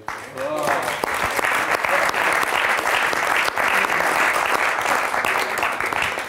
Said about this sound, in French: Je vous demande un tonnerre d'applaudissements pour y avoir participé.